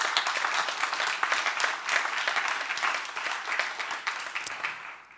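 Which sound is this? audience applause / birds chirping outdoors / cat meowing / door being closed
audience applause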